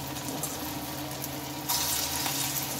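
Fritters drop into hot oil and fry with a steady crackling sizzle that swells louder partway through, close and continuous, with no voice.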